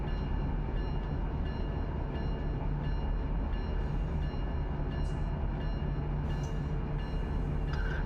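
A train rolling slowly along the track at about 11 mph, a steady rumble with a low mechanical drone and occasional high squeals and metallic clanks from the wheels.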